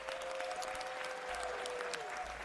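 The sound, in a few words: audience applause at city council meeting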